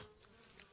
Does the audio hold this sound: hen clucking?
no